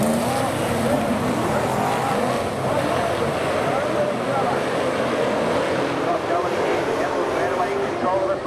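A Super Saloon race car engine roars continuously at high revs with a rushing, whining tone, loud and close throughout.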